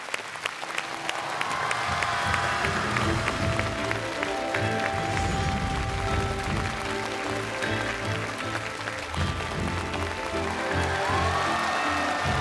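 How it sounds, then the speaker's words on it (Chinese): An audience applauds to welcome two guests onto the stage of a televised poetry-and-painting show. The clapping swells within the first second into dense, sustained, fairly loud applause that lasts the whole stretch, with faint voices underneath. "掌声有请李光复、朱凤伟，有请两位"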